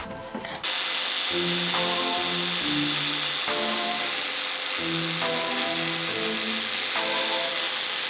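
After a brief start, a Revolt cordless jigsaw, a Makita copy, cuts continuously with its blower running, making a loud, steady buzzing whine that never stops.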